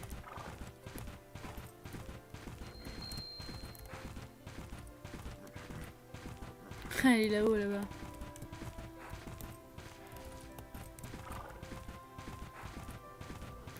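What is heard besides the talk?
horse hooves clip-clopping in video game Bella Sara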